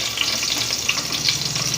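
Curry leaves sizzle in hot rice bran oil in a pan, a steady close crackling hiss with small pops throughout, no voices.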